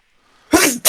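A single sharp sneeze bursts out loud and close, followed a moment later by a short second burst, with near silence before it.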